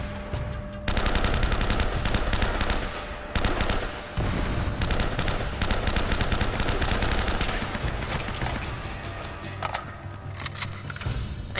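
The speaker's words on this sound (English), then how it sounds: "Where's that shotgun coming from?" Gunfire in the game Uncharted: Drake's Fortune, including a shotgun, rattles out in dense, loud, nearly continuous volleys broken by a few brief pauses.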